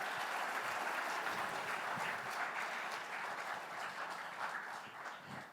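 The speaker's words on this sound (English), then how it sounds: "a round of applause for them" An audience at a Women in STEM education event applauds steadily, a dense patter of clapping that holds for several seconds and tapers slightly at the end.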